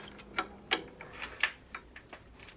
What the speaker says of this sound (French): Donc là, Torx 55. On vient dévisser le galet tendeur.